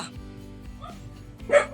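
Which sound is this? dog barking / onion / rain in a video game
dog barking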